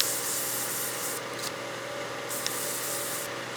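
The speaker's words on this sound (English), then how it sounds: "So let's go ahead and sand that now." Sandpaper of 400 grit rubs against a spinning wooden turning for a Christmas German smoker, a steady close-up hiss with brief lifts as pressure shifts, over the low hum of the lathe motor and with no talking.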